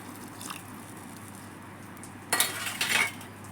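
A spoon scraping and clinking against a metal pot of fish curry, two bursts of stirring, the second longer, against a quiet kitchen background.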